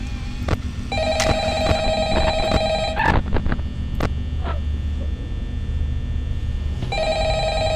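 Telephone ringing in the horror video game Five Nights at Freddy's, repeated electronic ring bursts over a low electrical hum with clicks and bumps, fairly loud and without talking.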